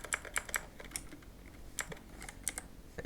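Keystrokes on a computer keyboard, a run of crisp clicks in small irregular bursts with short pauses, close and fairly quiet, with no talking.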